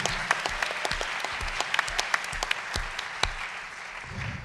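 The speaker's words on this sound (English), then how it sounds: "Give her a round of applause." Audience applause at a Democratic gubernatorial candidates forum, a steady wash of many hands clapping with a few sharper individual claps standing out, fairly close and continuous throughout.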